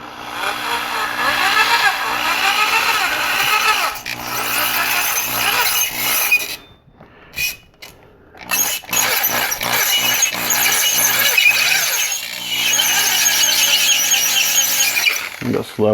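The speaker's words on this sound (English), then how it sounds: "I'm going to drill that down." Small electric drill boring pin holes into the legs of a 1/4-scale Thor model kit, a high whine that runs in bursts with brief stops and restarts, close and loud, with talking over it.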